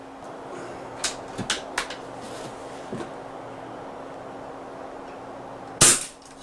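An SMK XS78 .22 air rifle fires one sharp, loud crack near the end, preceded by a few faint clicks and knocks of handling, in a quiet setting with a steady low hum.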